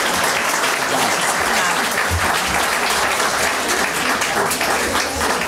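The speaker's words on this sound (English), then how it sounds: "Now it's time to applaud." Loud, sustained audience applause at a League of Women Voters candidates forum for county commissioners, dense clapping filling the room steadily from start to finish.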